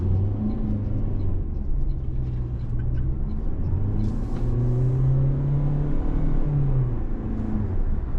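A 2025 Toyota Prius hybrid accelerates, a steady moderate engine drone rising in pitch as it picks up speed, heard from inside the car with road rumble underneath.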